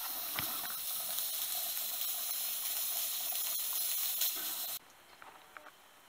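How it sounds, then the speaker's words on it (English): A loud, steady sizzling hiss of a large chicken breast searing in a hot pan, cutting off abruptly to a quieter crackle near the end. "So the really big piece of chicken breast I'm cooking like a steak."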